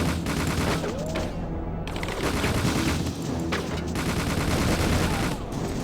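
Rapid bursts of KA-47 assault-rifle fire in the N64 game The World is Not Enough, loud and continuous, with game explosions and a brief drop near the middle, no voices over it.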